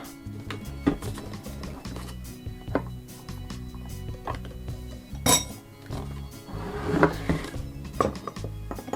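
Dishes and a bowl clink repeatedly as finely blended garlic, skin included, is scraped into a bowl, with sharp close chinks and clatter of utensils scattered over about nine seconds, busier near the middle and end.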